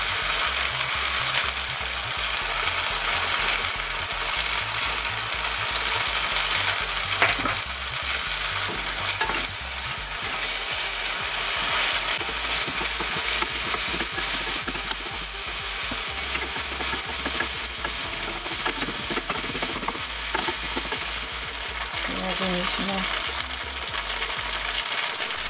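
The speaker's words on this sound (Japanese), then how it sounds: "汁気がなくなるまで炒めたら火を止めます。" Food stir-fries in a pan with soy sauce and oyster sauce, giving a steady close sizzle throughout, broken by occasional clinks and scrapes of a utensil against the pan.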